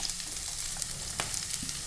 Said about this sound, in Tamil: பச்சை மிளகாய், இஞ்சி, பீன்ஸு, கேரட்டு எல்லாமே ஒட்டுக்காவே சேர்த்து நல்லா கிளறி விட்டுக்கலாம்